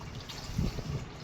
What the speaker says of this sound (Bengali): এবারে আমার এই আমন দুধ গোলাটা আমি ঢেলে দেবো আস্তে আস্তে